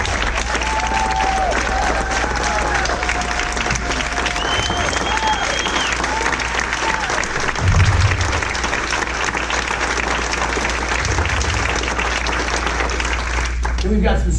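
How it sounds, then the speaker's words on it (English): An audience at an organization's gathering applauds, dense and loud clapping sustained throughout with a few whistles and cheers rising from the crowd. "let's give a round of applause for being part of Shield Nation"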